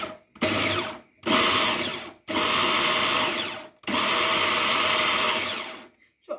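A kitchen machine whirs in four loud, close bursts of a few seconds each while blending a yogurt and pickle dip sauce, with brief silences between the runs.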